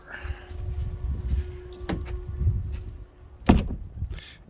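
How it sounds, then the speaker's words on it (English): A door being closed at a home in hot Arizona weather, heard as a sharp thump near the middle and a louder bang toward the end, among rustling and low rumble. "I gotta close this door."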